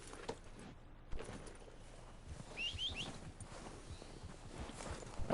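Horse hooves clip-clop at a walking pace in Red Dead Redemption 2, a faint, steady patter with a few bird chirps mixed in.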